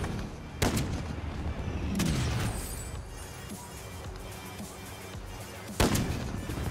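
Gunfire in the online shooter Warzone: a few sharp shots at about 0.6, 2 and 5.8 seconds, ringing over a busy game backdrop, with no voices.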